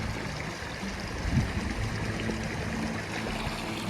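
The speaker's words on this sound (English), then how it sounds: "here's a stream coming down out of the mountain" Water from a mountain stream in the High Uintas Wilderness rushes steadily in a broadband wash, with a brief swell near the middle and no voices over it.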